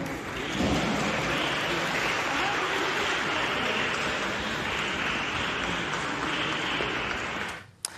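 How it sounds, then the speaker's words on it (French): Crowd applause greets Gisèle Pelicot arriving at court, a dense, sustained wash of clapping from many people that holds steady and then cuts off abruptly near the end. "Gisèle Pelicot est applaudie à son arrivée au tribunal"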